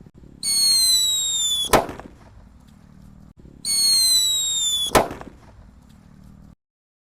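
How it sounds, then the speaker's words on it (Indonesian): A red paper-wrapped Whistling King Thunder firecracker shrieks with a loud high whistle for over a second and ends in a sharp bang. The whistle-and-bang sequence plays twice. "menyalakan mercon buntulan kertas. Ini Wrestling King Thunder yang warna merah"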